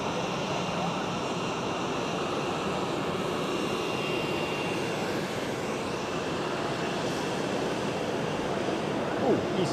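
An EasyJet airliner moving at Zurich Airport gives a steady, broad jet engine roar that holds at the same level throughout, heard from a distance with wind-like hiss.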